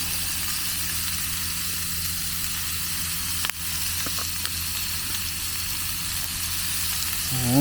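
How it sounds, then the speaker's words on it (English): Seasoned food sizzles in a heating pan at a camp cooking setup in the Ozarks, a steady close crackling hiss with a few faint clicks and knocks. "You can hear that sizzle."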